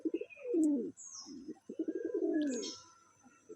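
Pigeons coo in a loft, including moulting young Kaldom birds, in a run of rolling, repeated coos that come close and clear, with a few higher chirps in between.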